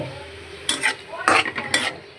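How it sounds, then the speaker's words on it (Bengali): Shrimp stirred in a hot pan of oil for a prawn and bitter gourd dish, with three or four quick scraping, clattering strokes over a steady sizzle, close and fairly loud, no talking. "সুন্দর করে ভাজা ভাজা হয়ে গেছে চিংড়ি মাছটা এবার দিয়ে দেবো আমরা তেল"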